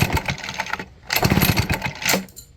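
A small engine, apparently a lawn mower, cranks repeatedly in loud, uneven bursts separated by short pauses and never catches. The fault appears only when the engine is hot; it starts when cold. No one talks.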